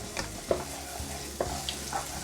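Chopped small onion frying in a pan for peppercorn sauce gives a soft, steady sizzle close by, broken by a few light stirring scrapes and taps, with no talking over it.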